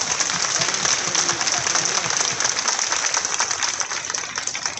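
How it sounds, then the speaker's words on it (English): An audience at the opening ceremony of the Toronto Ukraine Festival 2022 applauds, a dense, steady wash of clapping that carries on throughout at fairly high level. "let's clap"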